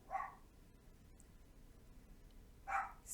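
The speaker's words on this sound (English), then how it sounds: "if I don't just do a video with the dogs barking and the people talking and coming and going" A dog barks twice, faint and fairly distant, with a short bark at the start and another near the end over a quiet background hum.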